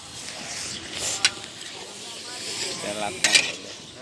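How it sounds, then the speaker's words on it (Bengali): Sacrificial meat is stirred in a hot pan, giving a soft steady sizzle with scraping strokes and a couple of sharp utensil clinks against the metal, close up. "তো দেখো মাংসটা দিয়ে খুব সুন্দর করে নাড়িয়ে নিচ্ছি"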